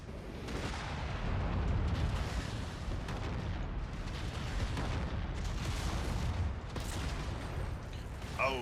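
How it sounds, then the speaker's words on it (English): Heavy mech combat in a video game, with a Gauss rifle round striking a target amid continuous loud booming explosions and gunfire-like rumble throughout, dense and sustained rather than a single isolated impact. "Oh, that Gauss round had to hurt."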